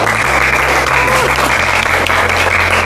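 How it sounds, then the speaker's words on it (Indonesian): A loud, dense burst of hand clapping at an Indonesian elementary school, with a steady low hum underneath. "Tepuk tangan"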